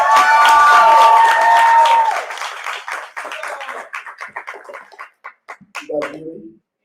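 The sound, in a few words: audience applause for keynote speaker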